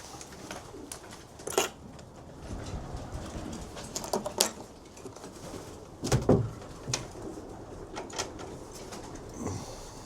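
Racing pigeons inside a loft, with soft cooing, wing flutters and scattered knocks and shuffles at close range, in a quiet indoor space.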